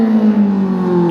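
Motorcycle engine at a track day holding a loud, steady high rev, close and continuous with no talk.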